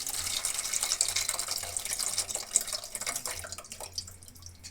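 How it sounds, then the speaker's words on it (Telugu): Tamarind juice is poured into a pan of egg curry, producing a continuous soft liquid splashing and trickling, close and moderately quiet, tapering off near the end. "ఇప్పుడు ఇందులో చింతపండు రసం కూడా యాడ్ చేస్తున్నాను."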